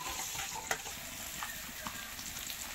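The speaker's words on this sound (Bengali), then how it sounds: "পেঁয়াজ তো ভালো ভাজা ভাজা হয়ে গেছে" Onions fry in hot oil in a pan for a home-style fish curry with carrots, giving a steady, close sizzle with occasional sharp pops and stirring clicks.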